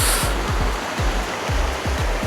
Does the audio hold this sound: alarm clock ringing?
no